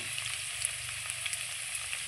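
Pointed gourd frying in oil in a pan, lightly salted, gives a steady, close sizzle that runs evenly throughout with small crackles and no voices.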